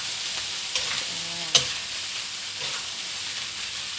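Fried rice with plenty of vegetables sizzles steadily in a hot pan while being stirred, with a constant crackling hiss broken by a few sharp scrapes and clanks of the spatula, with no talk.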